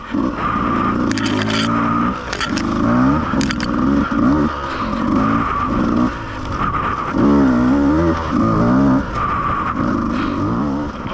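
A Beta 200RR enduro motorcycle engine revs hard while riding, rising and falling loudly through repeated throttle bursts and gear changes, close and continuous, with brief rider voice audible at moments.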